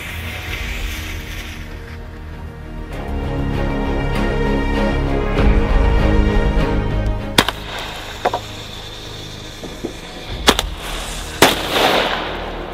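Fireworks set off outdoors beside a shed, a long fizzing, crackling burn followed by several sharp loud bangs near the end.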